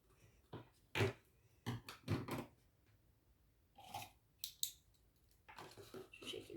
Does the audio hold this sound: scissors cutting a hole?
yes